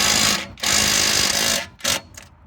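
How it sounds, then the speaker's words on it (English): A cordless drill whirs in bursts as it drives self-tapping metal screws into a metal charger mount for a golf cart lithium battery setup, with a long steady run, a pause, then shorter pulses. "I use self-tapping metal screws to mount it"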